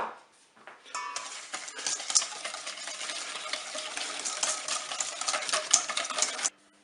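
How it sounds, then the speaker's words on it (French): Butter and sugar stirred together in a bowl for a cake, a steady close scraping and clinking that runs for several seconds and then stops. "On va commencer par mettre le beurre et on va le mélanger avec le sucre."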